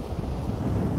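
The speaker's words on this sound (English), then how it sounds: "Let me know if it's really, really windy, guys." Strong wind from a storm at Coney Island buffets the microphone by the waves with a constant low rumble and gusty flutter, no voices.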